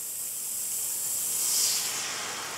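Beaten egg mixture for an omelette pizza sizzling as it hits a hot buttered pan, a steady bright hiss that swells slightly midway and then holds, close and even, with no voices.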